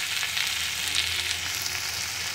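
Food sizzles steadily in a hot pan while a fish recipe is cooked, giving a dense, continuous hiss with faint crackles throughout and no talking.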